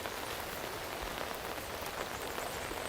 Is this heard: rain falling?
yes